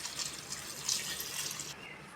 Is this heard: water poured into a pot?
yes